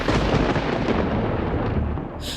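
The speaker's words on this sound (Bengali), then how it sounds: "আর তার সাথে সাথে কান ফাটানো এক মেঘের গর্জন" A loud, deep rolling rumble of thunder fills the whole moment, booming and then slowly fading toward the end.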